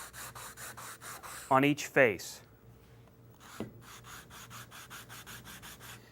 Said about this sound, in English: I just like to take my sanding block and just a couple of passes